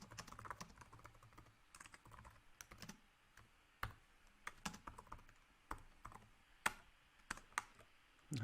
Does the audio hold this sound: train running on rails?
no